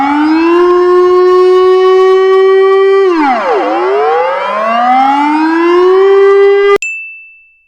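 A loud emergency alert siren wails as a steady, harmonic-rich tone, dips and swoops back up, holds, then ends abruptly with a sharp ding and a fading tone.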